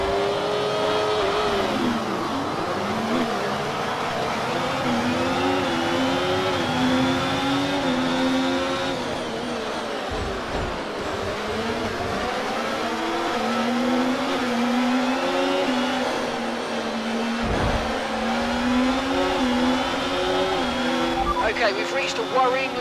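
F1 race car engine at the Las Vegas Grand Prix in the F1 24 game, its high whine rising and falling steadily through gear changes across the lap, loud and continuous under occasional talk.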